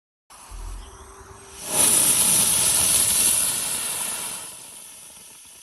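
A homemade sorbitol-fuelled rocket motor with a bentonite nozzle, larger than an earlier design, ignites with a quiet lead-in, then roars into a loud, steady broadband hiss during a thrust test and tapers slowly toward the end.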